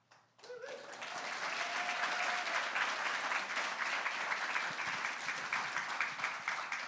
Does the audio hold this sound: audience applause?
yes